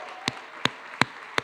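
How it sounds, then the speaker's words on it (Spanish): Four isolated, sharp claps land at steady intervals in a church service, crisp and close against a quiet room hum, a sparse smattering instead of a full congregation ovation. "¿Y qué tal si damos también un fuerte aplauso a la familia de Río"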